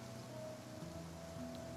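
Rain falls in the Genshin Impact video game as a quiet, steady hiss of drops, with no voices over it.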